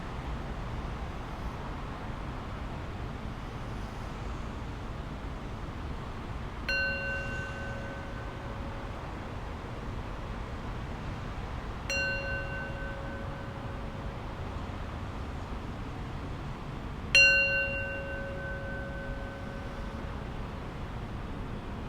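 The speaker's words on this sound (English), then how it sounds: "close our period of formal practice with 3 rings of the bell" A meditation bell rings three times at even intervals to close a session of formal practice, each strike a clear, sustained tone that fades slowly over a quiet, steady background hiss.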